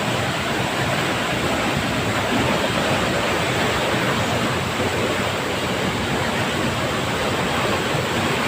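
A strong flooded river current rushes past at close range, a loud, dense, unbroken roar of churning water that holds steady throughout, with no talking.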